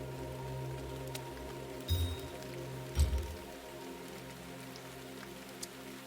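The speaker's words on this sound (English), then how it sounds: "I love that soft rain sound." Soft, steady rain patters on surfaces in GemCraft, a constant gentle wash with two brief louder thumps partway through.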